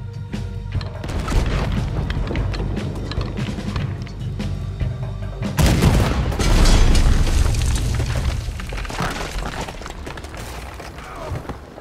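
Cannon fire from a ship battle in Red Dead Redemption 2, with deep booms and rumbling blasts, a sharp heavy burst midway, and dense clattering explosions afterward.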